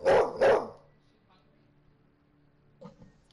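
A dog gives two sharp, loud barks close up, then after a quiet stretch a fainter pair of yips or barks follows.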